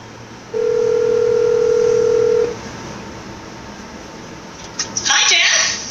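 A single two-second ringback tone from an Apple Watch cellular phone call, steady and clear, sounds during a live launch event at the Steve Jobs Theater, then stops before a brief rustle of activity.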